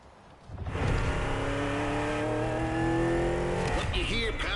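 NASCAR-style race cars in The Crew Motorfest, engines droning and revving loudly in a sustained roar with shifting pitch, a brief tire squeal near the end.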